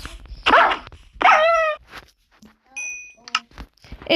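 Sharp synthetic dog barks, two loud bursts followed by fainter yips and electronic chimes, sounding like game audio.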